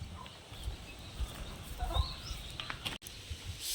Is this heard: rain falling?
no